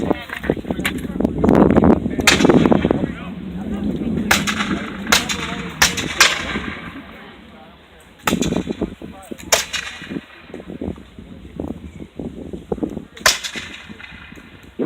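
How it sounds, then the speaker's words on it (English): Black powder muskets fired at a siege reenactment battle at a fort, sharp cracks going off erratically near and far, some overlapping, with voices talking and shouting in between. "firing a bit more erratically to pepper the enemy with bullets"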